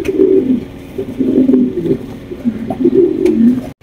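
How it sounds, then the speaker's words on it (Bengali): Maltese fancy pigeons cooing in continuous, overlapping low throaty rolls, close and fairly loud, with no talking over them. "এখানে রয়েছে মার্কেট কাঁপানো আরো এক জোড়া কবুতর আপনারা দেখতেই পাচ্ছেন"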